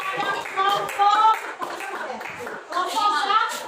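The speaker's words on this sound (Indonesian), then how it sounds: "Baik, tepuk tangan" A classroom of students claps for a student group after its presentation, scattered hand claps in bursts with children's voices talking and calling out over them.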